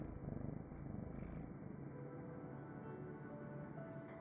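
Bagheera, a small affectionate black cat, purrs close up in a soft, steady rhythmic rumble that continues without a break and with no voices.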